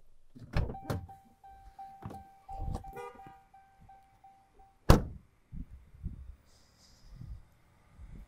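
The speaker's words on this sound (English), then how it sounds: "Also have a power sliding back glass." A power sliding rear window on a 2011 Dodge Ram 1500 Laramie Longhorn pickup runs with a steady electric motor whine for about four seconds, framed by soft clunks, then a sharp thunk as it stops.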